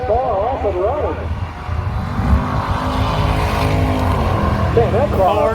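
A Ford Ranger launching down a drag strip, loud engine roar building and sustained as it pulls away, with an announcer talking over the noise.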